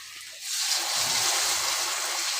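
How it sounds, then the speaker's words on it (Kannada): Water poured into a cooking pan, starting abruptly after a short quiet moment and continuing as a loud, steady rushing splash to the end. "ಅದಕ್ಕೆ ನೀರು ಆ್ಯಡ್ ಮಾಡ್ತೀನಿ"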